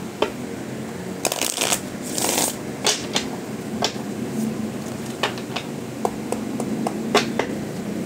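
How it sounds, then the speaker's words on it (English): Playing cards are shuffled up close: a rapid riffle burst, then scattered crisp snaps and taps as the deck is cut and squared. "one last shuffle."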